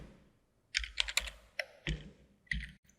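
A command typed on a computer keyboard, close, quiet key clicks in short uneven bursts with brief pauses, alone without talk.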